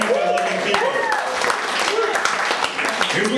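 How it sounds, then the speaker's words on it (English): Applause from a comedy club audience, dense broadband clapping filling the room for several seconds, with cheers and voices mixed in throughout. "Give ourselves a round of applause tonight"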